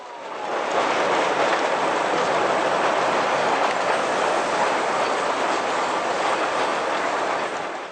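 A narrow gauge train, on 2-foot track, rolls along continuously with a dense, steady rattling roar, wheels clattering on the track throughout at an even loudness.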